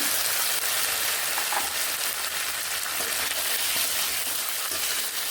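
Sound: ginger, cumin and chili spice paste frying with potatoes

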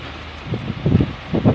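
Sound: wind blowing in an orchard

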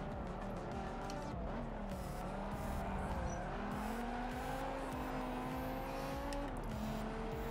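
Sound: race car engine and tire squeal in Forza Motorsport 7 video game

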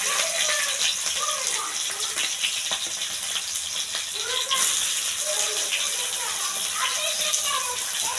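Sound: chopped onion added to hot oil with cumin, sizzling

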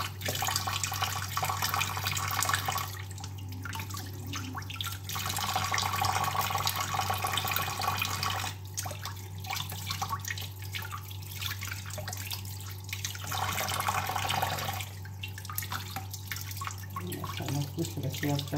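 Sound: tap water running while washing sardine fish

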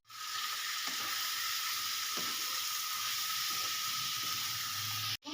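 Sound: vegetables sizzling while frying with chilli and cumin powder

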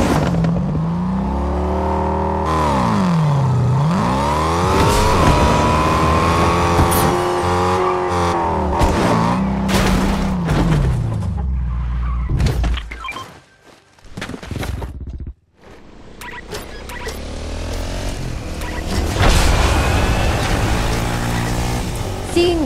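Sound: car driving in Fortnite, from a video game

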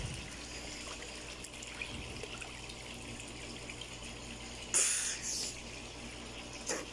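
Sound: person bathing in a swimming pool, water splashing

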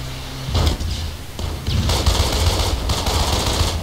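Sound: gunfire in video game Code of Honor French Foreign Legion

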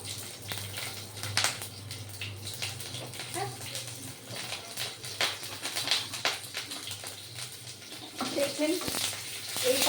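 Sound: pumpkin pieces frying in a pan with green chilli and panch phoron

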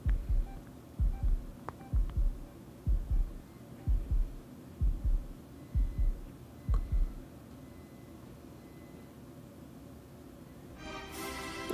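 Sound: heartbeat speeding up in video game Deer Simulator

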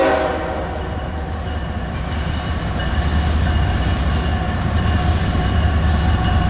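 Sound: Norfolk Southern GE ES44AC locomotive leading freight train passing

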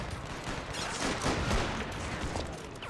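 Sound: artillery and gunfire in WW1 video game Between Empires

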